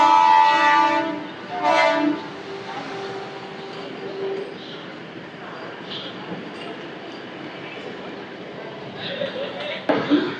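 A DEMU express train pulls away from the station on the Renigunta to Nandyal line, sounding a long, loud horn at the start, then a second short blast. Engine and rail rumble continue steadily afterward, with a few brief louder bursts near the end.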